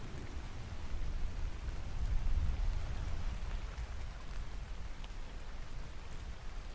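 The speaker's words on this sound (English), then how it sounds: "We got the rain sounds," Steady rain falls as a continuous broadband hiss with a soft low rumble, swelling slightly around the middle and otherwise even throughout, with no voices over it.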